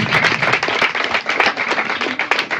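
Audience applause for a contestant in a student quiz final, a dense, steady patter of many hands clapping close and fairly loud throughout, with no talk over it.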